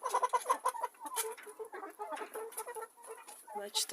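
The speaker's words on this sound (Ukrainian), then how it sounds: "Ось дивіться, курочки." Hens cluck and chatter close by in a yard, with a steady run of short, clipped calls while someone talks over them.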